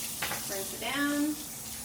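Tap water runs briefly into a sink while a cheap paint brush with orange paint is rinsed, a short close splashing gush with faint tonal ringing.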